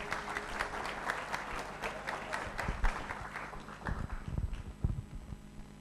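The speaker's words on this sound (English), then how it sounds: "Round of applause" An audience claps for a volunteer at a sales and marketing seminar, a patchy round of applause that starts at once and runs the whole time at moderate loudness, with a few sharper claps standing out toward the end.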